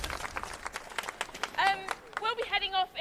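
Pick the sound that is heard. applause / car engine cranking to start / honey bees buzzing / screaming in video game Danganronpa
applause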